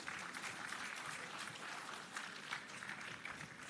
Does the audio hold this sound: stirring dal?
no